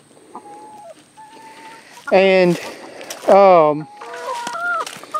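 Chickens in a backyard coop cluck nearby, a couple of loud drawn-out calls standing out among softer clucks, while someone speaks briefly.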